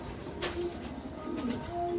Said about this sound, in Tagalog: Eto na yung dalawang ibon natin guys, from Gapan Mid-Toss Training, Checard, tsaka yun, si Luisito.